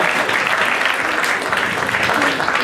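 An indoor audience at a bodyfitness competition applauds loudly and steadily, a dense close wash of clapping with faint voices mixed in.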